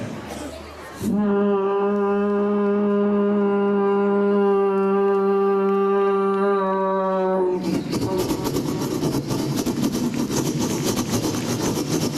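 A voice imitates a passing train to show the Doppler effect, a long, steady horn-like hum whose pitch dips as it passes, followed by noisy rumbling like the train rushing by.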